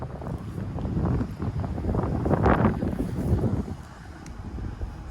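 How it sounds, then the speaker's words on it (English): A 2007 Ruud High Achiever 2-ton central air conditioner with a Copeland scroll compressor runs outdoors, giving a steady, close, low broadband rumble and fan whoosh that dips slightly near the end. "That is a Copeland scroll compressor."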